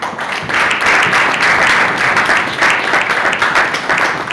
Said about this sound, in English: if you are clapping for MDs